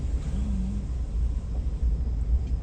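A brand-new Chevrolet Silverado 4x4 pickup pushes through floodwater at night in Fort Myers, a steady, loud low rumble of engine and splashing with no voices.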